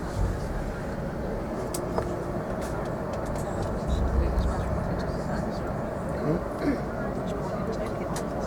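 Cabin of a British Airways A380 during landing at London Heathrow runway 27R in bad weather, with a steady loud roar of engines and airflow throughout and a few faint bumps, while people talk quietly.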